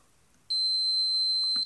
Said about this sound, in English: I've got my meter on the beep test